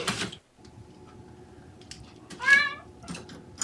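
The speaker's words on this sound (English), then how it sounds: "It's my trained cat." A cat gives a single clear meow partway through, mid-loud and close, amid quiet room noise with a brief voice at the start.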